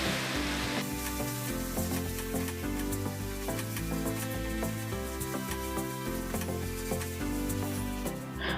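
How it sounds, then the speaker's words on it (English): Finely chopped tomatoes frying in oil for Indian egg bhurji, a loud, dense crackling sizzle that starts abruptly and stays steady, with music playing underneath and no speech. "Now we'll add the finely chopped tomatoes and let it cook until the oil floats on the top."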